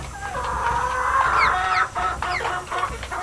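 Hens cluck steadily inside a chicken coop on a ranch in the Nancy Drew game The Secret of Shadow Ranch, a close, busy run of overlapping clucks and rising squawks.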